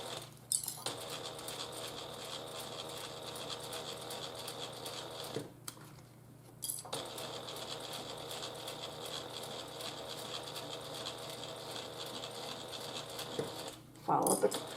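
Home sewing machine stitching a small fabric heart pouch, a steady mechanical whir running in long stretches with brief stops and clicks between runs, close and moderately quiet.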